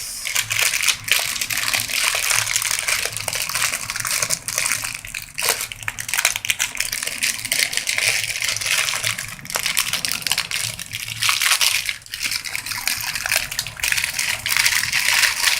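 Raisins go into a pot of hot sugar water, with steady close sloshing and watery churning that carries on throughout without a break.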